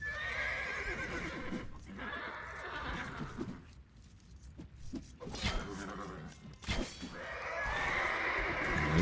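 Cavalry horses in an Age of Empires style strategy game neigh and whinny repeatedly amid clip-clopping hooves and battle noise, a dense, loud game mix that dips briefly midway before swelling again.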